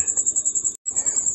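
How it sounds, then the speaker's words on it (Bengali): A cricket chirps loudly and close in a fast, pulsing trill that cuts out for an instant before resuming. "শুনেছেন নিশ্চয়ই রাতে ঝিঝি পোকার ডাক"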